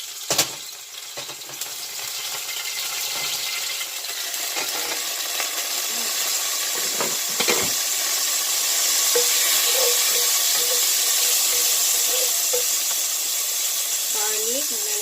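Garlic frying in oil for beef chowfan fried rice gives a steady, moderately loud sizzle and hiss that builds slightly over time, with occasional clinks and scrapes of a utensil against the pan.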